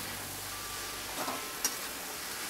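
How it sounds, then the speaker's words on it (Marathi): Dry curry of cabbage and potato being stirred in a pan, a soft steady sizzle with a few faint scraping strokes partway through, quiet and close with no voices. "आता हे चांगलं हलवून घेते"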